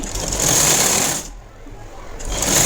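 A sewing machine stitching a sleeve onto a plain blouse gives a loud, close, rapid buzzing run, drops to near quiet for about a second, then starts up again.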